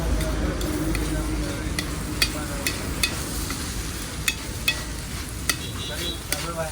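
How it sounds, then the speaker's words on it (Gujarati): Spice masala is stirred into moong pulao in a pan, with a low continuous sizzle and a string of sharp ticking clicks as a spoon taps and scrapes the pot at an uneven pace. "હવે એને પ્રોપર તરીકે આપણે હલાવવાનું છે."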